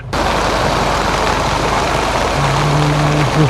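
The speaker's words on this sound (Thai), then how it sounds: "ฝนตกฟ้าลง" Rain falling gives a steady, dense hiss of drops with no pauses. A faint low tone rises near the end, and no one speaks.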